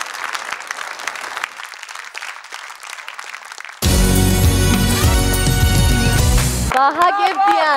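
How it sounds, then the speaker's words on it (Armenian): An audience at a gala claps warmly for a dancer, a dense steady applause lasting a few seconds before loud music cuts in and takes over. "ծափարությունները ուղեկցենք նրան"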